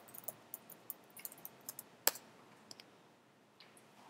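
Computer keyboard typing, a sparse run of distinct, fairly faint clicks at an uneven pace with one sharper keystroke midway and a quiet background.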